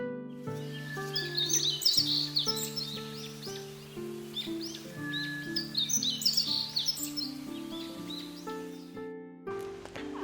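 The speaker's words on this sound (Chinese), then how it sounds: "这里面有很多小鸟住在这个葡萄藤蔓里面" Small birds chirp and twitter in a cave garden, a quiet scatter of high calls over a sustained background tone, with a brief lull near the end.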